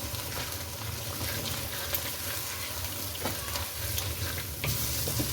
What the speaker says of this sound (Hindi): अब इस मसाले को अच्छे तरीके से भून लें।